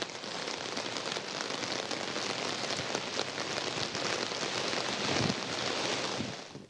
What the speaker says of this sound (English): As the rain takes its normal course